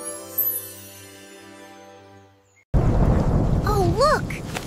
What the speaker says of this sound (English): Pitter-patter! It's raining!